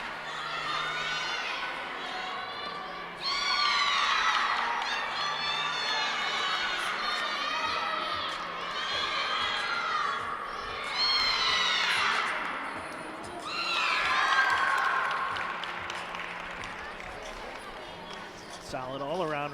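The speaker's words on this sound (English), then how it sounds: "Applause from the teammates" Gymnastics teammates at a college meet clap and cheer after a routine, a lively crowd of shouts and whoops rising in bursts at moderate distance.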